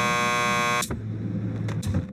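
Door buzzer at a police lockup in the video game Max Payne 2, a loud harsh electronic buzz lasting under a second, followed by quieter clicks and low background hum.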